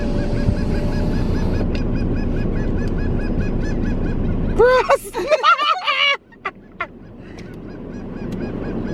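Geese honking loudly outdoors, a run of harsh repeated calls standing out over steady background noise, with people talking around it.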